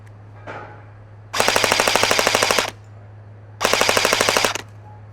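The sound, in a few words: EMG Helios F4-15 airsoft AEG rifle firing full auto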